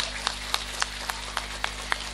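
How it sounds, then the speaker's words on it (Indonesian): At a religious gathering (pengajian) in Jalatunda, an audience claps in a slow, steady rhythm: about eight evenly spaced, sharp handclaps over a low constant hum, with no talk. "Tepuk tangan dulu dong guyuk rukun sangat niki"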